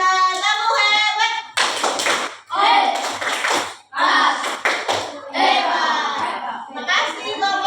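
A classroom of children claps in short rhythmic bursts between loud chanted voices, with a teacher's voice in the mix and brief pauses between phrases.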